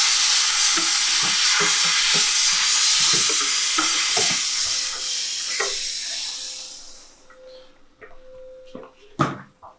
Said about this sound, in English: I can give a bit of a blast with steam